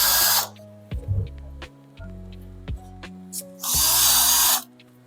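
A power drill driving screws into a baby blue steel drawer cabinet during assembly, two loud whirring bursts at the start and end with clicks and clanks of metal in between.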